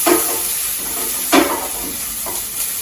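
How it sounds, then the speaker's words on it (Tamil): Green chillies and onion sauté in hot oil over already-spluttered mustard and cumin seeds, a steady close sizzle broken by a few soft stirring scrapes of a spoon in the pan. "இதில் பச்சை மிளகாய், வெங்காயம் அதையும் போட்டு ஒரு வதக்கிடுவோம்."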